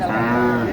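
A short, steady moo from a young Sahiwal cow at a cattle market in Naogaon, Bangladesh, close and fairly loud, with no talking.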